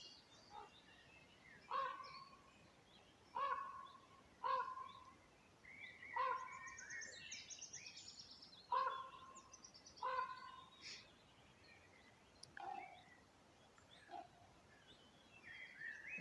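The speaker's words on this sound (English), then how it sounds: "It's conversing with some other raven. You could hear the other raven in the distance also." Ravens calling outdoors, a series of loud croaks repeated at roughly regular intervals, with another raven answering faintly in the distance; no one speaks.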